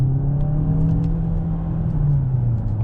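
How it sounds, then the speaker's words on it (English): A 2021 DS 7 Crossback E-Tense plug-in hybrid SUV accelerates in second gear, its engine droning loud and steady inside the cabin with a rising then easing hum and no voices. "let's test out the acceleration. Ready? Drop it down to second gear."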